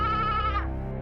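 A goat bleats in one sustained, wavering call that is loud and close, then breaks off abruptly, leaving a low hum.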